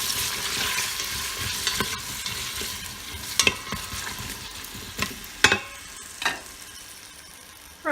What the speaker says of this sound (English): So I'm going to add some of the pre-cut vegetables that I think should be sauteed a little bit before they go in a curry.